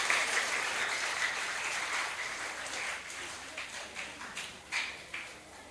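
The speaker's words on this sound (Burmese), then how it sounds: "ဆရာကိုလက်ခုပ်တီးပြီးတော့ဖိတ်ခေါ်ရအောင်" Applause from an audience welcoming a teacher, a soft, steady wash of distant clapping that thins into scattered claps toward the end.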